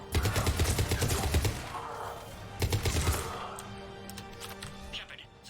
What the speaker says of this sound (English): let's get the combat turret out